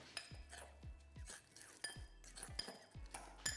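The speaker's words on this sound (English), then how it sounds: "with our fork, just mash that away and mix it through" A fork mashing butter in a bowl, in repeated soft scraping strokes with light clinks against the dish, quiet and close, with no voices.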